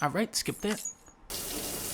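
Shower water pours in the video game Death Stranding, starting as a steady, close hiss right after someone speaks briefly and continuing evenly to the end.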